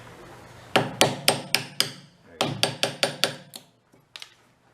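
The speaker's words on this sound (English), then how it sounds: "Let's see if we can drive a wedge in her." A hammer drives a wedge into an old air compressor in two quick runs of about five sharp, ringing metallic blows each, separated by a short pause, then a couple of lighter strikes trailing off.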